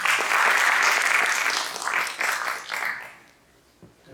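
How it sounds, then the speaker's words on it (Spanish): Loud, close applause from a seminar audience at the Universidad de Guadalajara, dense clapping that holds strong for a few seconds, then breaks into scattered claps and fades out. "Un aplauso."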